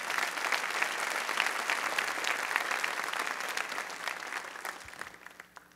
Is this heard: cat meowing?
no